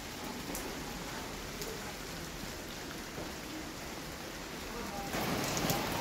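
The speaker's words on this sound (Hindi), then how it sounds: "ज़बरदस्त बारिश हो रही है।" Dense, steady rain hisses continuously, a heavy downpour close by with no pauses, slightly louder near the end.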